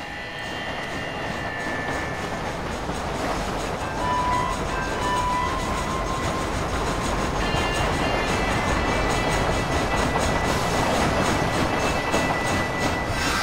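Train rolling on rails in Red Dead Redemption, a steady rumbling clatter of wheels and carriage noise with faint tonal whines and horn-like tones drifting above, continuous and fairly close, no talk.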